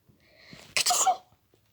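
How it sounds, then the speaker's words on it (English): A single sneeze from Peter Rabbit while searching among flower pots in a garden shed, with a soft breathy intake before one sharp, close burst that trails off into quiet. "Presently, Peter sneezed."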